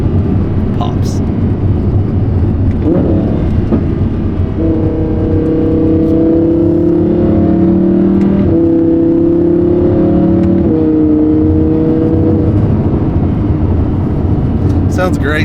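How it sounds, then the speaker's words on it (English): A supercar downshifts on an open country road in Mexico. Its steady engine drone steps through shifting pitches, with a few brief pops among the shifts. "see if you guys can hear some of these downshifts right here"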